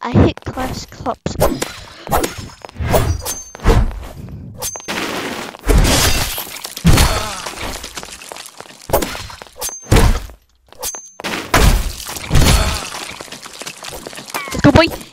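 Glass cups shattering in a video game, a run of sharp breaking crashes and thunks scattered through the clip beneath loud, excited talking and shouting.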